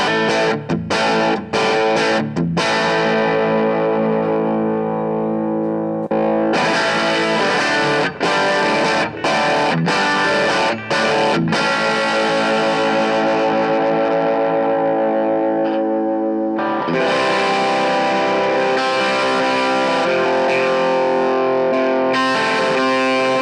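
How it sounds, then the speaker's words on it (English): Duesenberg Julietta electric guitar on a clean setting with slight breakup and bite, strummed chords ringing loud and continuous with short muted gaps, no talking. "in my breakup situation, the clean sound of this already has its bite"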